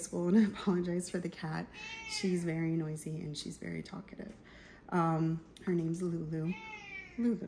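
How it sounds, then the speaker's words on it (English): Pet cat Lulu meows repeatedly, a series of loud, close, drawn-out cries with rising and falling pitch, mixed in with someone talking to her. "I apologize for the cat. She's very noisy and she's very talkative."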